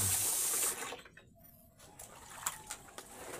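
Water runs and splashes during hand washing of laundry, a steady broadband rush that breaks off briefly, then returns with small splashes and drips close by.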